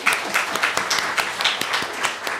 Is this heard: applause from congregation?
yes